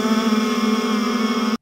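Several voices hum together in imitation of Star Trek warp engine sounds, a steady, droning hum held at even loudness for about a second and a half before cutting off abruptly.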